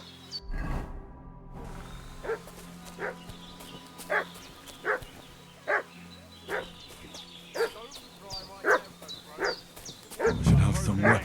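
Dog barking in the video game Kingdom Come: Deliverance II, a steady run of sharp, evenly spaced barks at middle distance over quiet ambient background, ending in a burst of louder rustling noise.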